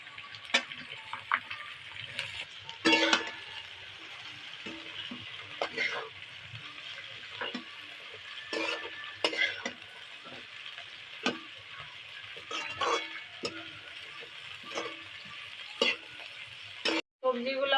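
Onion petals and shredded cabbage fry and get stirred in a hot pan for egg chowmein, a continuous sizzle broken by repeated sharp spatula scrapes and clinks, close and fairly loud, with a brief dropout near the end.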